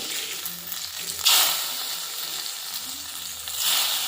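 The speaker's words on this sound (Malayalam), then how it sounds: "നമ്മൾ ഈ സാമ്പാറിലേക്ക് കടുക് വറുത്തത് നമ്മൾ ഇടാണ്" Mustard seeds fried in oil are tipped into a pot of coconut-roasted Brahmin-style sambar, setting off a loud, sudden sizzling burst that settles into a steady crackling hiss and swells again near the end, with no voices.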